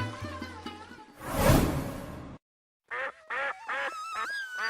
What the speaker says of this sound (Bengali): তিন্নি, তোর ঘরে তো এখন হাঁসের রাজ্য।